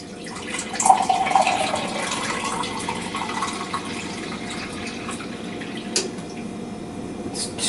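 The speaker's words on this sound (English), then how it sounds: "which we'll start with 4 cups of the coffee, which I'll pour that over the sink" Coffee pours from a container into a food storage container over a kitchen sink, giving a continuous splashing rush of liquid that swells early and then steadies, close by with no talking.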